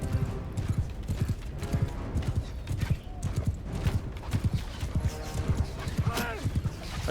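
A horse gallops with rapid, rhythmic hoofbeats in Mount & Blade II Bannerlord, close and steady, with a neigh near the end and someone talking over it.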